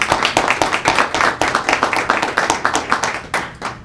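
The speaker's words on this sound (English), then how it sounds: "can we pause to have a round of applause for Winnie?" A small audience at a school Board of Education meeting claps for Winnie, a brisk run of distinct, close hand claps that thins out toward the end.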